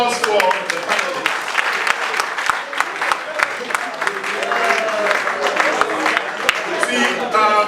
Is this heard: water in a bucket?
no